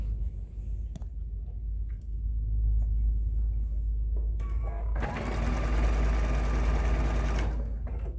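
A sewing machine stitches a star table runner, first in a low motor hum with brief clicks, then running fast and loud for a few seconds before slowing.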